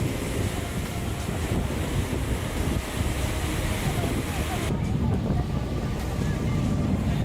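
Steady roar of ocean surf washing onto a shore, heavy with wind buffeting the microphone, continuous and fairly loud throughout.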